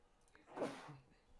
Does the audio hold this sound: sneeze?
yes